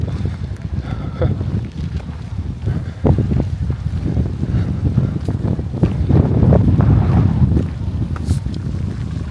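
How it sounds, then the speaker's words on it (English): Strong outdoor wind buffets the microphone in Munich, Germany, with continuous loud rumbling gusts that swell and ease over several seconds and no voices. "You can see how windy it is."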